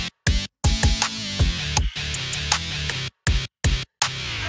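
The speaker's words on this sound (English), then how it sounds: "Here's a regular guitar that sounds like this." Guitar part played back inside the Caustic music app, a busy, bright stream of strums and notes chopped by several short gaps of silence, close and full with no talking.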